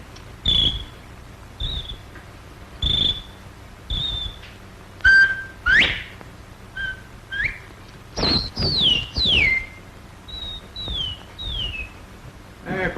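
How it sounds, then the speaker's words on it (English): A series of short whistled notes blown into an oriental spirit bottle, some sliding up or down, come one after another with brief pauses, sounding hollow and close. "If you take this bottle and you whistle in it,"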